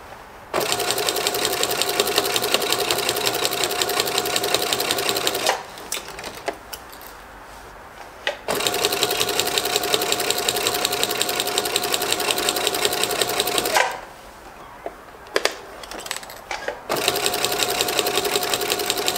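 A sewing machine stitches a seam around a baby blanket in two long runs of rapid, clattering mechanical rhythm, separated by a quieter pause with small handling sounds.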